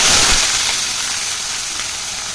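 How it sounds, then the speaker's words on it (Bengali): Chopped onion, ginger, garlic and green chili hit hot oil in a pan, giving a loud, steady hiss and sizzle that slowly eases over a couple of seconds, with no one talking. "তো দেখো তেলটা বেশ গরম হচ্ছে, দিয়ে দেবো এই পেঁয়াজ, আদা, রসুন, কাঁচা লঙ্কা কুচি"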